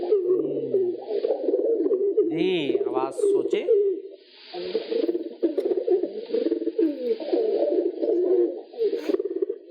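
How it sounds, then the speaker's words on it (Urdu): A pigeon coos steadily in low, rolling repeated calls, close and clear, with a brief voice breaking in partway through. "کبوتر کی آواز ہے"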